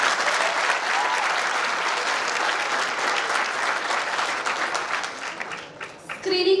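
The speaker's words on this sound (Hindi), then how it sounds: "उनके लिए हमारी तरफ से तालियां बजा दो आप लोग।" A hall audience at a short film festival in Greater Noida claps in a dense, steady wash for about six seconds. It thins briefly near the end, then picks up again, with no voice rising above it.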